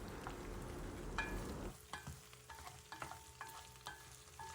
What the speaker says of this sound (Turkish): Aromasını vermesi için şöyle 1-2 saniye kadar karıştırdım ve içerisine patlıcanlarımı ekliyorum.